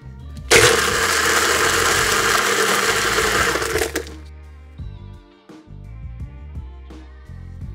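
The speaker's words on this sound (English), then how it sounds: "Now use a blender to blend the ingredients." A blender whirs loudly for about three and a half seconds, blending Zombie cocktail ingredients with ice. It then stops, leaving clinks and soft handling sounds of glassware and ice.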